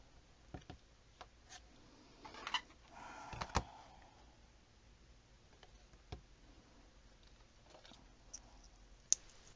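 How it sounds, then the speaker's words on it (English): Scissors snip through paper for a craft project, giving a few sparse, faint clicks and short cutting bursts, with small taps and ticks in a quiet room. "Now I need to create paper, so I need to cut this."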